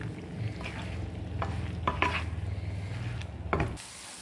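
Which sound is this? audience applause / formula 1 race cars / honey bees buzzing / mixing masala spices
mixing masala spices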